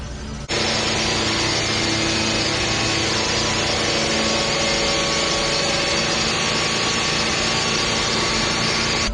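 A car engine held steady at 2500 to 3000 RPM during an emissions cruise test before a natural gas conversion, a loud, constant droning roar that starts abruptly and holds unchanged throughout.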